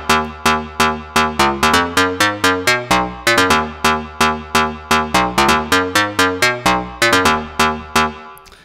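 Future house lead synth patch built in Serum with random phase switched off, playing a loud run of short, evenly repeated staccato chord stabs in a steady bouncy rhythm, with no talking over it.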